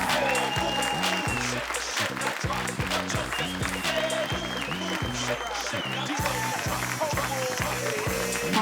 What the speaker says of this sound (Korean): 선수 입장 뜨거운 박수 부탁드립니다.